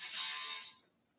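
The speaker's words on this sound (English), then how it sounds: "Please silence your cell phone." A cell phone rings briefly in a courtroom, a faint, high, buzzing electronic tone that holds steady for under a second and then cuts off, with no speech over it.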